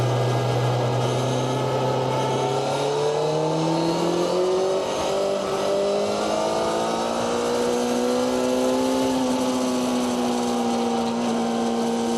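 A Kawasaki Ninja 1000 big bike holds high revs while riding, its engine a loud, continuous drone whose pitch climbs gradually and then holds steady, with wind noise throughout.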